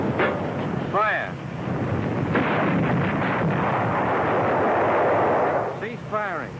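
Artillery guns firing in WWII-era film footage, with booming blasts and rumbling roars over windy noise and a voice calling out amid the firing.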